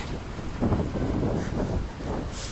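Wind buffeting a microphone, a rumbling low roar that swells and fades in gusts, loud and close with nothing else clearly audible.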